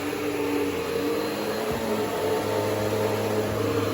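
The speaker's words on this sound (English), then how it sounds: "we're going to vacuum again" A vacuum cleaner runs steadily and close by in an apartment, its broad droning hum continuous throughout with a few low bumps as it moves.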